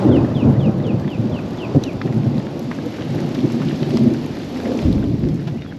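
Thunderstorm over a campsite as a front comes in at midday: steady heavy rain and loud low rumbles of thunder rolling throughout, with a sharper crack near the middle, and no one speaking.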